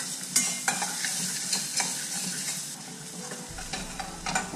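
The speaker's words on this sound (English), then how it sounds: "Some garlic. Now we'll saute it." Garlic sautés in a pan with a bright, close sizzle broken by repeated scrapes and taps of stirring, loud and continuous throughout.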